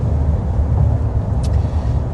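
A 2026 Nissan Frontier midsize pickup with a 3.8-liter V6 accelerating, heard as a steady, loud low engine and road rumble that holds evenly throughout without clear gear changes.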